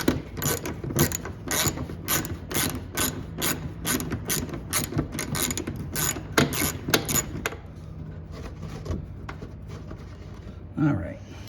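A 10 mm socket on a ratchet backing out a fog light bolt on a 2011-2013 Jeep Grand Cherokee: rapid close clicking that runs in quick bursts, then thins to softer handling noise, with a voice speaking now and then.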